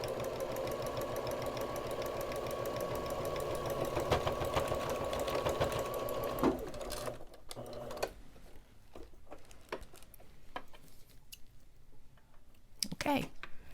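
A sewing machine runs a steady, fast mechanical stitching drone for several seconds while finishing a seam on a cloth face mask, then stops, leaving scattered clicks and handling noises.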